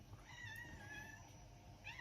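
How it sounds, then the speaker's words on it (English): Susie, a pet cat, meows in a chatty string of high, wavering squeaks near the mic, with one more rising meow at the end and a low background hum. "if you hear squeaking in the background, that is Susie, my cat"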